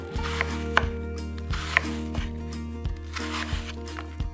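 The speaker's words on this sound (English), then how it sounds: "we're gonna cut them into about 1/4 inch thick slices." A knife slices apples into quarter-inch pieces on a cutting board, a steady series of close, crisp chops about every half second over a soft musical background.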